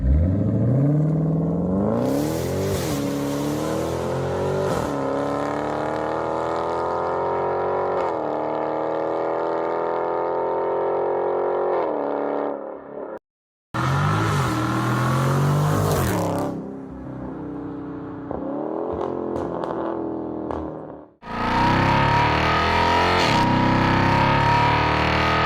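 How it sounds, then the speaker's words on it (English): Dodge Charger Scat Pack V8 engine revving loudly and up close, climbing in pitch through several throttle pulls with a brief cut-off midway, then roaring again at high revs. "now I'm going to play the sound of an actual Dodge Charger"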